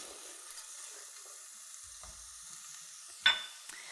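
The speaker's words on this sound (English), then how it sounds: "So I'm gonna give this a good stir" Spices and onions for carrot ginger soup being stirred in a pot. A quiet, steady sizzle runs throughout, with one sharp utensil scrape near the end.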